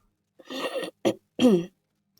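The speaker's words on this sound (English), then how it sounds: "Sorry about the coughing, by the way." A person coughs and clears their throat in three short bursts, close by, with silence before and after.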